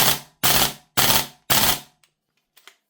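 Archwick APC9K airsoft gas blowback SMG fired in four sharp, loud bursts roughly half a second apart, each a short rattling cluster of shots, followed by faint clicks and near silence.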